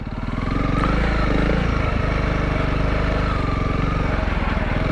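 A new motorcycle ridden over sand, its engine a loud, close, rough chugging drone that holds steady with slight rises in revs and a faint rattle of the bike.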